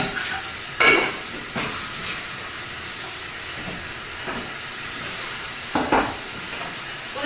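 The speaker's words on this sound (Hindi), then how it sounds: "तब तक मैं बर्तन धो लेती हूँ।" Dishes, pots and pans being washed at a home kitchen sink, with steady running water hiss and a few sharp clinks and clatters of cookware spaced apart.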